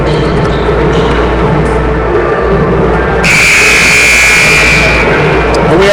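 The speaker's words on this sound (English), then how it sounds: "There is the buzzer" A basketball game buzzer at a high school hoop fest in Dallas, Texas blares loudly for about two seconds, one sustained electronic tone cutting through crowd noise and commentary.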